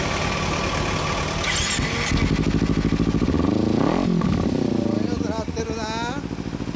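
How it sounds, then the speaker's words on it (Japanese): A 2014 Kawasaki Z250 motorcycle fitted with a BEET JAPAN exhaust idles with a lumpy throb, then revs up and drops back in loud, close blips, the exhaust note rising and falling. "エンジン音聞かせてもらえる？"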